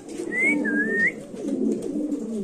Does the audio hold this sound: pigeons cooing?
yes